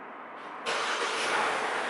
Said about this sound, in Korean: 이렇게 눌러야지만 시동이 켜집니다